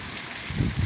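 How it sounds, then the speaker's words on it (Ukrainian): Rain falls on a Kyiv street during a summer downpour, a steady broadband hiss throughout with a low rumble building near the end. "У нас начался дождь."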